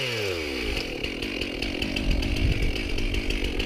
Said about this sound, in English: if we're running chainsaw all day